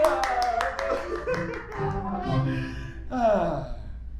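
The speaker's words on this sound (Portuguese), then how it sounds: "Todos os convidados que ouviram a história de Francesco aplaudem apaixonadamente." Guests at a staged performance of Dario Fo's Francesco burst into brisk hand clapping that fades after about a second, followed by lively spoken voices.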